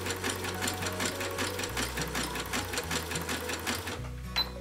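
A sewing machine backstitches along a fabric edge of an un-paper towel, a fast steady rhythmic clatter of stitches running close and moderately quiet, with its motor tone shifting in pitch as it slows near the end.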